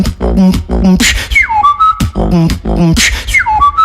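A voice beatboxes punchy percussive beats, and sliding whistle-like tones imitated by the mouth ride over the rhythm, loud and close.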